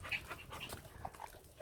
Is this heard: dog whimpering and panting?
yes